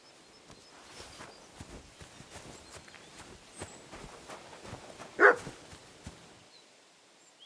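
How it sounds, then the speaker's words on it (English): A dog barks once in Kingdom Come Deliverance 2, a single sharp yelp rising out of a quiet medieval-game scene with soft footsteps and faint ambience, moderately near. "Barking?"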